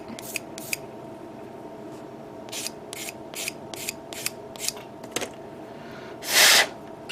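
Short scratchy strokes of 600-grit sandpaper rubbing a small plastic Bandai 1/72 model kit part, a run of close, evenly spaced rasps followed by a louder hissing burst near the end.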